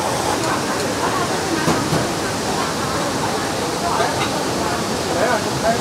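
A waterfall at Furong ancient town roars as a steady broadband rush, loud and continuous, with faint voices mixed into the wash.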